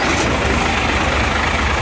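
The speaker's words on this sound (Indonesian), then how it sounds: "Ayo, bro. Hidup mesin." A truck's diesel engine idles in a steady, loud, low rumble after starting, heard up close during a check of an exhaust brake that sticks, with no talk over it.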